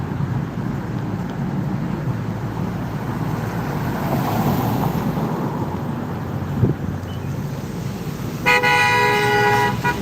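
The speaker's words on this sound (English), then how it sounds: "Someone's honking to free themselves." A car horn honking at a street protest in Austin: a steady roar of traffic and crowd noise, then a sustained, bright honk near the end.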